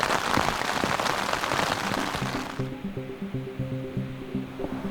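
Steady rain falls during a hike in the Peruvian Andes, a dense loud patter at first that thins into scattered drips, with a faint rhythmic pattern of low tones emerging later.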